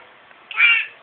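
A person at home with a small child imitates a cat with one short, rising meow, close and clear against near silence.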